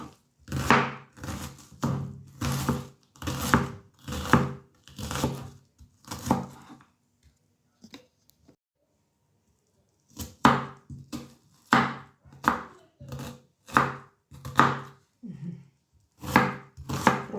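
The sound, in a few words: chopping onion with knife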